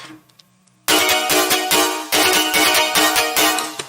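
Synth bass from a Vital preset drenched in convolution reverb, part of a remix, entering loudly after a quiet lead-in and pulsing in dense, rhythmic full-band bursts.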